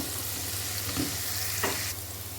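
Chopped onion and garlic fry in a pan with a constant close sizzle, with a couple of brief utensil clinks partway through and no talking.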